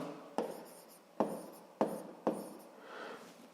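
Handwriting on paper while working a physics exercise, four distinct pen strokes, each a sharp scratching onset that trails off over about half a second, then a softer fainter scrawl, close and quiet with no talking.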